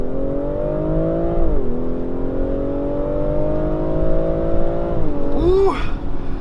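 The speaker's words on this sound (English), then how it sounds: "So let's start this off with a little launch start. All right, so in S, off, hard on the brake, launch is active." A 2019 BMW X4 M40i with a turbocharged inline-six, 355 hp, does a launch-control start: a loud, steady engine drone rises in pitch, dips briefly at a gear change, climbs again and then shifts near the end.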